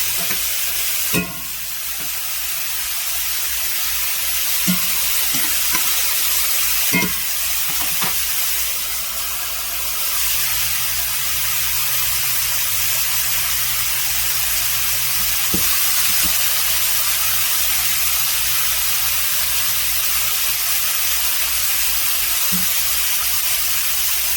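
Mushrooms cooking in a pan and giving off their liquid, with a steady soft sizzle and hiss throughout, a few stirring clinks and scrapes, and no voices.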